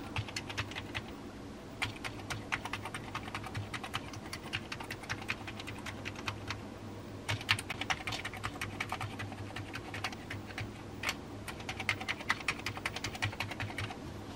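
Someone types on a Commodore Plus 4 keyboard with some keys newly working, a continuous run of quick, close clicky keystrokes in uneven bursts over a low background hum.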